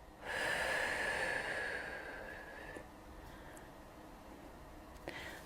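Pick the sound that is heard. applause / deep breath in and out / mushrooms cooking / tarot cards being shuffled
deep breath in and out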